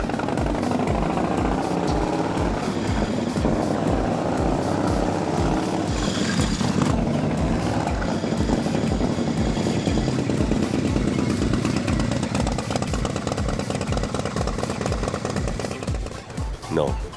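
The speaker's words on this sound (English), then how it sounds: "Slithering around the parking lot, this sidewinder is running great." A custom-built sidewinder vehicle's engine runs loud and steady as it slithers around a parking lot on its first ride, a continuous rough motor drone that rises slightly mid-way.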